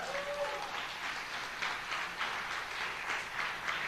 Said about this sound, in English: to explain why you're clapping